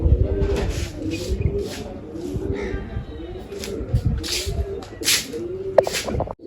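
Several pigeons, young birds among them, coo repeatedly in low rolling calls while pecking at scattered grain nearby, with soft shuffling and a few sharper knocks, close and steady.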